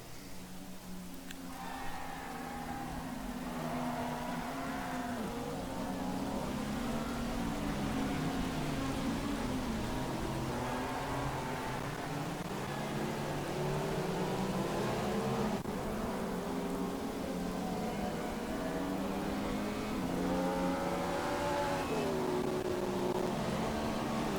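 F1 racing cars in F1 2016, a continuous droning engine whine that rises and falls with gear changes and throttle over a long stretch, moderately loud, with someone speaking intermittently.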